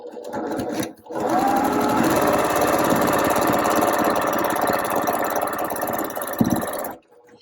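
A sewing machine stitches a quarter-inch quilting seam with a backstitch while half-square triangles are pieced, a loud, close, continuous motor whir and rapid needle chatter running for several seconds before stopping abruptly.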